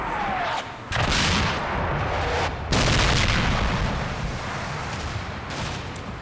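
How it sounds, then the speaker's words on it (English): Artillery shells land in a World War II video game battle on the road to Wiltz, a series of heavy booming impacts and crackling blasts rolling over continuous rumbling gunfire. "Our artillery strike starts to come in."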